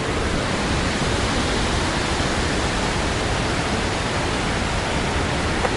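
Iguazu Falls waterfall on the Argentinian side, a constant broad roar of crashing water, loud and steady without any break or talking.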